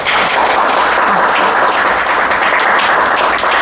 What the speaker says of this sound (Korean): 여기는 왜 박수를 치지?